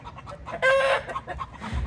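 A chicken clucks in a short burst, fairly close, with quieter scratchy background noise before and after.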